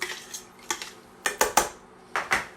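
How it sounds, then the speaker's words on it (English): A spoon stirs edamame stew with diced tomato in a pot, making a close series of sharp metallic clinks and scrapes in uneven bursts, with no talking. "Give that a good stir."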